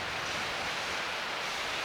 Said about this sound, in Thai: ตรงนี้ก็คือน้ำตกสิริภูมินะครับ